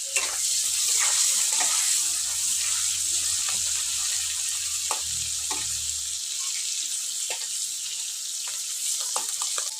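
Dried fish (shutki) frying in a pan, a steady bright sizzle with scattered clicks and stirring scrapes throughout, fairly loud and close, no talk.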